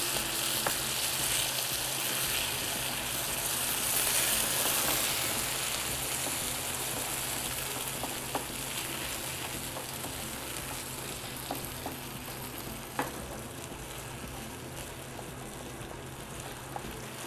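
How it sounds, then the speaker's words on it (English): Black beans and onions sizzle and crackle steadily in a hot frying pan, with occasional scraping and clicks from stirring, no voices. "I'm incorporating the black beans into the frying pan, and I'm mixing it all up."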